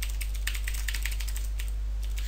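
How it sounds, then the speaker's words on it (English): Loud computer keyboard typing while writing WordPress PHP code, a steady run of sharp, close key clicks with uneven rhythm over a low electrical hum, no voices. "And I'm sorry about the loud keyboard."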